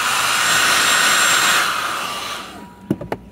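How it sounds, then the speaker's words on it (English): A hair dryer heating a Jeep Wrangler's delicate plastic connector plugs blows with a steady, loud rushing roar, then winds down and stops, followed by a couple of sharp clicks. "First let's heat it up with a hairdryer just to keep the plugs from breaking."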